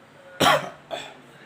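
A single person with a cold gives one sharp, close cough followed by a softer second cough, brief and loud against quiet background.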